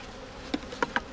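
Honey bees from a package colony buzz around an open hive, with three short distinct buzzes from bees flying close past, faint against quiet outdoor air.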